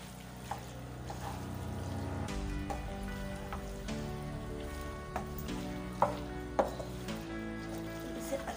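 Chicken macaroni being stirred in a pan, a steady close sizzle with occasional scraping knocks of the spoon against the pan.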